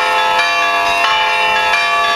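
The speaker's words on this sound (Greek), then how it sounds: "Και οι καμπάνες καλούν τους πολίτες της Κερατέας να πάνε στα μπλόκα." Church bells ring in the town square of Keratea, Greece. Loud, sustained metallic peals with overlapping, rhythmic strikes fill the air and carry on throughout.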